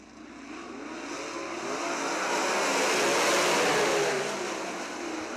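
Great Lakes Super Sprints race cars at Crystal Motor Speedway roar past as a pack taking the green flag, a dense engine wash that swells to a loud peak around the middle and then eases, with no voices.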